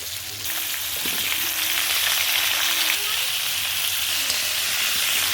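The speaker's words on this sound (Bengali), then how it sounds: "তারপর দিয়ে দিলাম আলুগুলোকে" Potatoes fry in hot oil with whole garam masala, cumin, dried chilli and bay leaf, a dense continuous sizzle and hiss, loud and close, with faint background voice.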